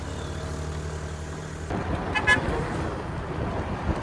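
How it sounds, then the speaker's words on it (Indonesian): A car accelerates on a hillside road during landslide clearing at Puncak Bukik Kapau, Sariak Bayang. A steady idle gives way to a louder, broad engine and road roar that holds to the end, with a brief horn-like toot. "Ada lagi mobil yang ambil gas nah."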